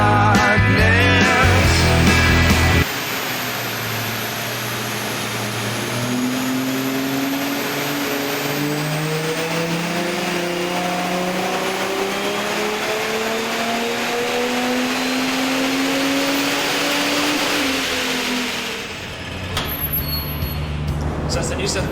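Holden Commodore engine on a chassis dyno at a New South Wales dyno day, revving in one long sustained run that climbs steadily in pitch for about fifteen seconds, loud and close, then dropping off as the pull ends.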